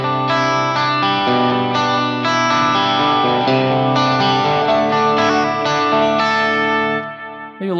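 Clean electric guitar through a Fractal amp modeler with heavy reverb at around 75 percent, sustained chords ringing continuously and washing into a long reverberant tail, played alone with no talking.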